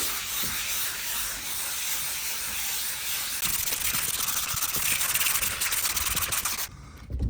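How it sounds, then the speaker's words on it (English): Steady abrasive rubbing of a sponge sander scuffing a door surface, a continuous close hiss that grows slightly rougher midway and stops near the end. "We're going to scuff up the door."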